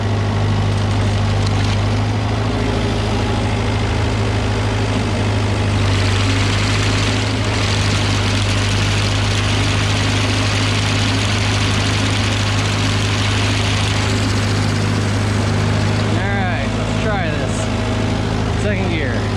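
Farm tractor running a No.5 sickle mower with the PTO engaged, giving a loud, steady low engine drone with a constant mechanical hum that holds close and unbroken throughout.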